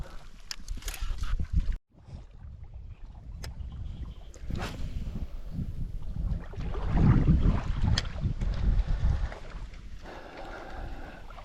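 Gusty side wind buffets the microphone with low rumbling bursts, swelling louder midway, over faint water sounds on the Dnieper River while fishing.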